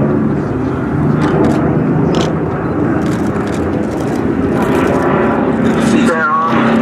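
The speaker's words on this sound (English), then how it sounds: "This is a Goodyear produced aircraft" Goodyear-built Vought Corsair FG-1 flying at the Duxford airshow, a steady loud engine drone throughout, with a commentator talking over it on a public address.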